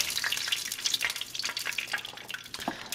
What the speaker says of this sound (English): We're searing the flavor in.